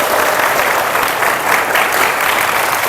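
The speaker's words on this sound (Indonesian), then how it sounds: "tepuk tangan buat Anda semua" Students in a ninth-grade classroom clap together in a dense, steady burst of applause that continues throughout, close and lively, with no talking over it.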